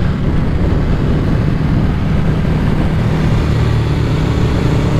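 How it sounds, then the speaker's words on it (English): Loud, steady EBR 1190RX motorcycle engine rumble through an aftermarket HMF exhaust, deep and throaty, holding a constant idle-like drone with no voices. "had my HMF exhaust installed onto my motorcycle"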